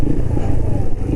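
Motorcycle with a raised final gear riding along, its engine giving a steady loud rumble with some clatter throughout.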